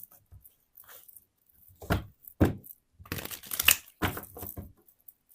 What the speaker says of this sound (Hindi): कार्ड शफल कर लूँ मैं।